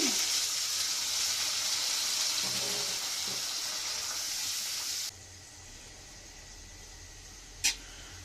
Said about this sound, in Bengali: এখানে কিছুটা পানি দিয়ে দিলাম।